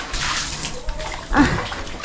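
Water splashes and sloshes steadily as something is rinsed outdoors at a house, with a brief louder splash near the end.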